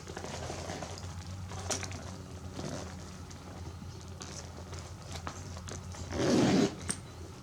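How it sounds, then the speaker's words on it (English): The vintage Lambo zipper on a small Chanel zip-top handbag is drawn closed, a close, short rasping zip near the end over soft handling rustle and light background noise. "And we'll see if it zips up."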